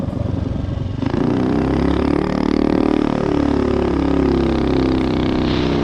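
A street-legal mini bike's small engine runs steadily and loud up close during a test ride, its pitch rising and falling as the throttle changes, with a rough mechanical clatter underneath.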